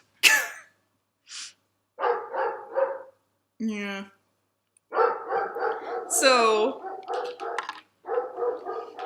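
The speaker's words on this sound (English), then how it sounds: "Rex, just go outside. Stop barking." Rex, a dog, barks in short bursts close by, some sharp and some rough and hoarse, spread over several seconds. A person speaks briefly among the barks.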